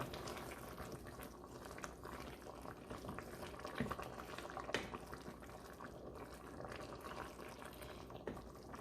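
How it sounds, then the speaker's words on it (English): Broth rolls at a hard boil as cornstarch slurry is poured in, giving a faint, continuous bubbling and gurgling with small splashes and no voices. "this is at a nice hard boil now. So we are going to slowly add our slurry"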